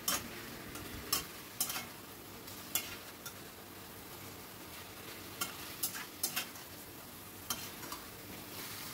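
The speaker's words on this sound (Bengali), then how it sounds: "দিয়ে সব কিছু আবারও খুব ভালো করে মিশিয়ে নিচ্ছি" A spoon stirs a curd and spice mixture in a pan over a medium-high flame, giving sharp scraping taps at irregular intervals over a faint background sizzle.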